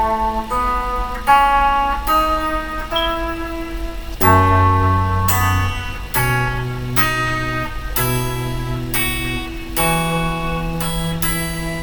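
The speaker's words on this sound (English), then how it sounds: "and that's why it's called the E melodic minor scale." E melodic minor scale played slowly as a sequence of sustained, harmonically rich notes over a low background hum, roughly a dozen steps at an even pace, steady and moderately loud with no speech.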